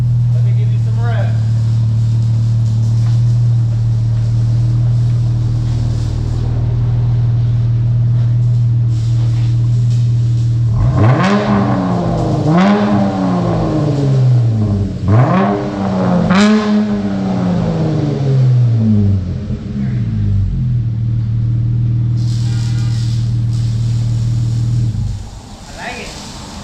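Dodge Charger GT AWD V6 with a mid muffler delete and resonator replacement, idling with a steady low drone, then three sharp revs climbing and falling back, followed by idle and shutoff near the end; a voice speaks briefly over it.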